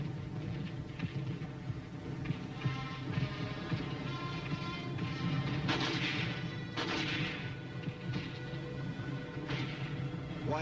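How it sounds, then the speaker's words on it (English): Sustained battlefield gunfire from tanks and machine gun crews in a Korean War army film, a dense rumbling barrage with a few sharper blasts standing out, continuous and moderately distant. "While tanks and machine gun crews lay down a blanket of fire to keep the enemy pinned down"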